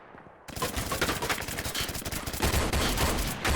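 Dense, rapid gunfire from a Roblox Jailbird match, a near-continuous rattle of overlapping shots that starts abruptly after a brief quiet moment and stays loud to the end.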